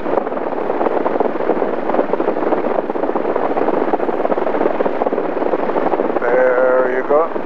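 A small training airplane takes off from runway 16 right during a discovery flight lesson, its engine a loud, steady drone throughout with wind buffeting, heard from inside the cabin.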